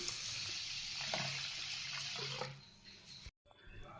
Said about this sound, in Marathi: आता आपण हे तांदूळ पण छान धुवून घेऊ